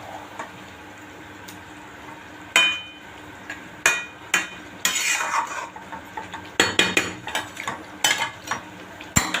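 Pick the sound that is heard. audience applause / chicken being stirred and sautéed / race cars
chicken being stirred and sautéed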